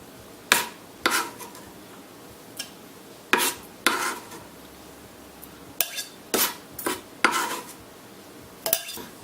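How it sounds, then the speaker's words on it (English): Pico de gallo ingredients being tossed and mixed in a bowl, with sharp intermittent clinks and scrapes of a utensil against the dish in scattered bursts, close and otherwise quiet. "So I'll go ahead and throw all this stuff in and mix it in."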